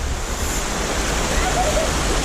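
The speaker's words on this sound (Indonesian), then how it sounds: "Oke, air terjun" A waterfall on Mount Dempo near Pagar Alam rushes in a loud, steady broadband roar, close and unbroken for the whole stretch, with no voices over it.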